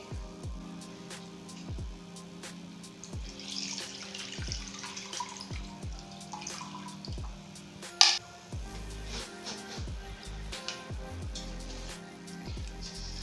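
Tamarind water, made from a lemon-sized lump of tamarind soaked and squeezed, is strained into a bowl with a faint steady trickle, scattered drips and one sharp clink midway, with no talking.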